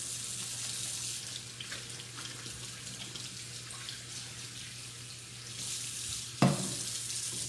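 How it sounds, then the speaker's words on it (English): Hands are washed with soap under a running kitchen tap after handling raw meat, a steady faint hiss of water with a brief louder splash near the end, no talking. "I'm gonna wash my hands with soap and water."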